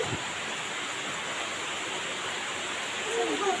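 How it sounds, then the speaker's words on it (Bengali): Rain falling over a village with sandy ground, an even, continuous hiss of drops that stays the same throughout. "বৃষ্টি কি হয় এই দেখো।"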